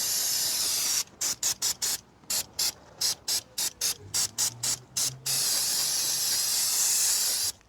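Brake cleaner blasts from a strong nozzle onto a Land Rover Range Rover L322 rear brake caliper: a loud steady hiss broken by a rapid series of short spray bursts, then a continuous spray again.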